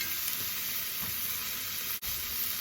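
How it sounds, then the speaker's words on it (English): Chopped garlic sizzling in a hot pan, a steady close hiss with a brief break near the end. "We're going to add about a half a teaspoon of chopped garlic."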